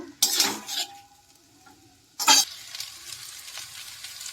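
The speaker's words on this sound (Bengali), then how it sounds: "দুটো খুন্তি করে না নাড়লে কিন্তু নাড়া হবে না" Chow mein noodles stirred and tossed with two spatulas in a hot pan, giving two loud bursts of scraping and sizzling separated by a quieter frying hiss, close by with no talk.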